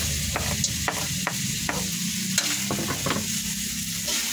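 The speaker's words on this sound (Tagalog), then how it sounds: "Lagay na natin tong ating carrots" Carrots dropped into a frying pan while cooking pancit bato, a Bicol noodle dish: steady sizzling with a series of sharp clicks and scrapes from stirring, close and fairly quiet.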